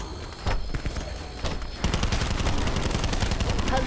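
Bursts of gunfire in a video game: a few separate loud shots early on, then a sustained rapid stream of automatic fire rattling continuously to the end.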